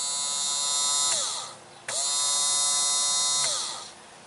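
A boat's electric bilge pump whines on at a steady high pitch, winds down, then starts again and runs before spinning down once more.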